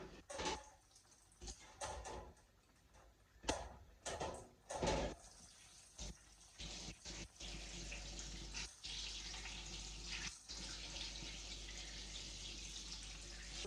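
A kitchen tap running cold water, a steady hiss after several clunks and knocks, fairly faint and close.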